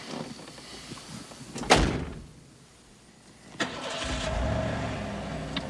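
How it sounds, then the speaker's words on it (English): A car door shuts with one sharp, close thud inside the car, followed by a hush and then a rising engine rumble. "Cade, close the door."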